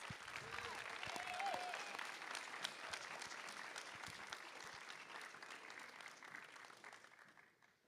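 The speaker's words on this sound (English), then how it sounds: "Please give them one more round of applause." Applause from a school board meeting audience honoring high school choir students, a steady wash of clapping that holds for several seconds and then fades out near the end.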